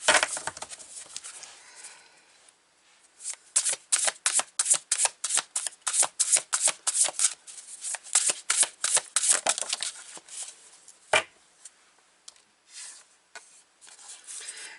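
Tarot cards being shuffled by hand in rapid riffling bursts, a fast run of crisp flicks through the middle with quieter handling before and after, close and alone with no talking.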